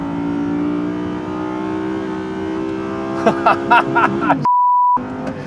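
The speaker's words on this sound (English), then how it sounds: "that is the draw of the NA engine, the sound, the howl" A 2022 Audi R8 Coupe V10 Performance RWD's naturally aspirated V10 engine howls steadily, then rises in short bursts of throttle, cut by a brief steady electronic beep near the end.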